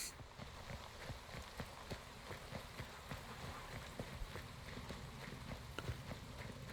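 Horse hooves clip-clopping in the video game Weird West, a quick steady run of faint hoofbeats over a rainy background, with no talk.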